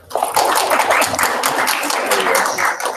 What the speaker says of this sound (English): let's go ahead and welcome her with a round of applause